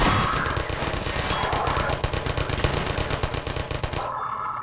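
Automated turrets in Half-Life 2 fire rapid, steady bursts, loud and close, in a continuous rattling stream that cuts off near the end.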